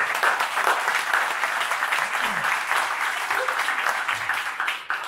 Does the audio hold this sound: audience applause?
yes